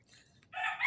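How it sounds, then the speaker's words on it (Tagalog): A rooster crows once in the distance in a village, a bright drawn-out call rising after a quiet, faintly noisy stretch. "Nagtitilaok doon na manok."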